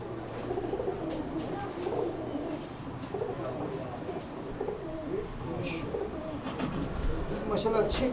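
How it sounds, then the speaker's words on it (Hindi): Rampuri pigeons in a loft give soft, low repeated cooing amid rustling and faint background chirps, with people talking nearby. "अहमद भाई कौन से कबूतर का शौक करवा रहे हैं? जी ये रामपुरी इसी नर की मादा है"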